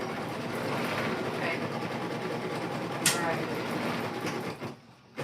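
An embroidery sewing machine stitches the edge of a clutch in the hoop, with a steady rapid mechanical whirr and rattle that runs throughout, a brief click near the end, then a short pause.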